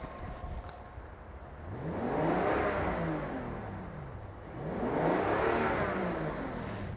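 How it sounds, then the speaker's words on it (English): A 2020 Rolls-Royce Phantom engine revved twice at close range, each smooth rise in pitch swelling then falling back toward idle. "But what will happen if I rev the engine?"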